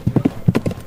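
Horse hooves clip-clopping in a quick, steady trotting rhythm, close and distinct, with several evenly spaced hoofbeats on a hard surface.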